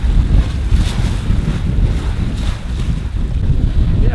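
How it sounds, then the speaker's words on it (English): A sailboat sails upwind at around 6.5 knots in about 15 knots of breeze, with a loud, constant rush of wind and water noise buffeting the microphone. "Virtually no waves, so it's really nice, just sailing upwind right now."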